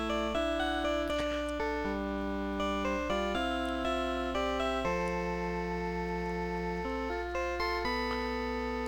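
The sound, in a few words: Godot's bass phone ringtone in video game Phoenix Wright: Ace Attorney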